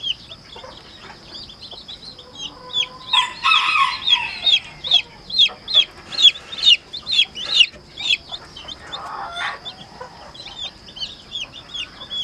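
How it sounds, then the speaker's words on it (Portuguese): Newly hatched chicks from a farm incubator peep constantly in high, rapid chirps, close by, while chickens and a large rooster cluck loudly in rhythmic bursts over the chorus, with no speech. "esses são os pintinhos de galinha lá do sítio com o galo grande do sítio."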